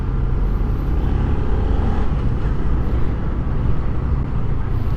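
Engine of a 2024 Yamaha PG-1 motorcycle running steadily while riding, a continuous loud broadband drone with road and wind noise and no voices.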